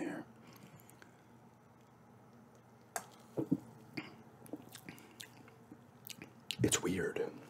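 Close, soft gum chewing in an ASMR setting, with irregular wet smacks and squishes that grow busier and louder toward the end, over quiet background hiss.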